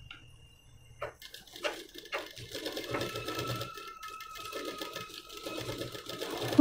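A sewing machine stitching puff sleeves for a blouse, starting with a few short bursts and then running in a steady, fast mechanical whir until the end, close and fairly quiet.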